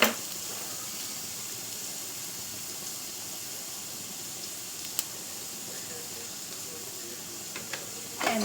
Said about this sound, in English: we are adding some grated garlic into a hot pan